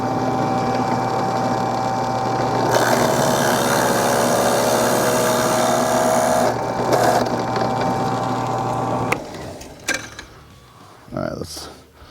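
A SKIL 10-inch drill press bores into a chunk of treated 4x6 lumber, a loud steady motor whine with a grinding cut that runs for several seconds, then spins down with a few clunks and handling noises.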